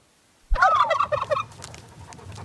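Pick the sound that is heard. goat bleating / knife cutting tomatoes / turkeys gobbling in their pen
turkeys gobbling in their pen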